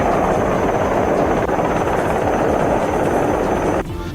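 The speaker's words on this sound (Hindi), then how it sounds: "थोड़ी ही देर में हेलीकॉप्टर समंदर में जहाज के पास मंडराता देखा।" Helicopter hovering over the sea beside a ship during a rescue in strong winds, a loud steady rotor roar with wind buffeting that continues without a break and drops slightly at the very end.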